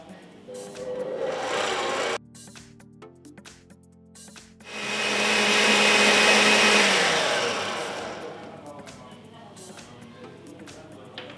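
Electric mixer beating tape cake batter with SP emulsifier added, a loud whirring drone that cuts out, restarts and swells before easing off; a voice talks over the motor.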